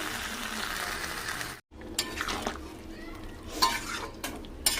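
Chili chicken sizzles and frying in a pan at home while a utensil stirs and scrapes in bursts, with a brief silent gap and soft clatter against the pan.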